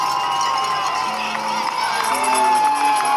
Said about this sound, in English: From Hopkinton all the way to Boston is very loud. There's amazing people just having a picnic or just hanging out cheering the runners.